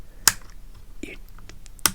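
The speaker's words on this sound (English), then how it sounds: "it like actually makes a clicking noise to turn it on and off" A Lego Game Boy's power switch is flicked on and off, giving two sharp, close plastic clicks separated by a pause, with a few softer taps and small handling noises in between.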